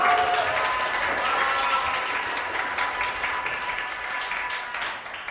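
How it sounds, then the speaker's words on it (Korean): An audience at a live study-method concert claps warmly in welcome as a speaker comes up, a steady, dense wash of applause that lasts throughout and fades slightly near the end. "김유찬 리더님을 뜨거운 박수로 모시겠습니다"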